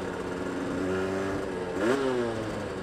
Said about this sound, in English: My bike's running like shit at the moment. It's fucking spluttering everywhere mid-range